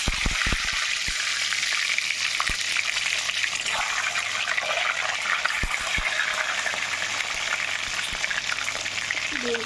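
Eggs slipped gently into hot salted oil in a home kitchen pan set up a steady, close sizzle and crackle of frying that runs throughout without pause, with a few sharp pops near the start.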